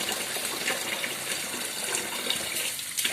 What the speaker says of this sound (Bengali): ও মাথায় জল দিচ্ছে